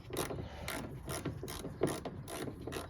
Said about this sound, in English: Tighten up the bolts to see how it lines up